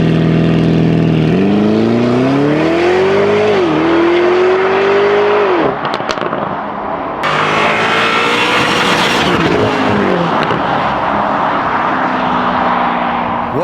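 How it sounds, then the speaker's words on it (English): A 2023 Lamborghini Urus Performante, a 700 hp SUV, revs its engine loudly and up close. The pitch climbs in several rising pulls, then the car roars on at a strong, steady level. "welcome to my 2023 Lamborghini Urus Performante."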